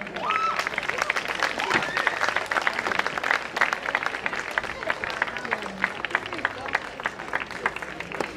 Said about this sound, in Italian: Accogliamo con un forte applauso tutti gli allievi